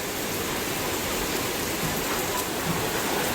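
Steady rain falling outdoors during the monsoon, a dense, even hiss of drops on surfaces that stays constant and fairly loud throughout, with no voices.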